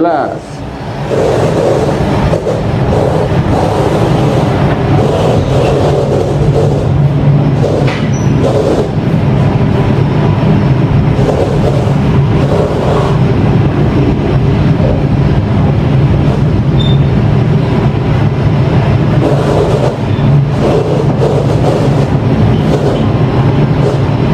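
A KA Purwojaya passenger train pulls into track 3 of Purwokerto station, a loud, steady rumble of rolling wheels and carriage noise heard from on board that continues throughout with little change.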